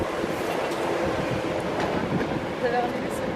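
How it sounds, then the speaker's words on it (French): An RER commuter train rumbles past with a broad, steady roar of rolling wheels and rail noise, fairly loud and continuous throughout. "Le bruit du RER."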